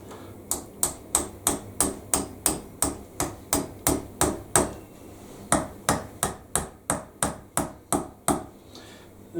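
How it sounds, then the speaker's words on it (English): A hammer knocks a fixing into a solid wall in a steady rhythm, about two dozen sharp, ringing blows close by with a short pause midway, the tone growing slightly tighter. "there's a slight change in the hammer tone, starts to get a little bit tighter"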